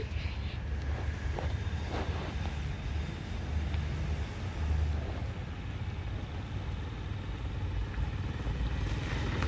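A motorbike on the move, its low engine drone running steadily throughout with constant wind buffeting against the microphone.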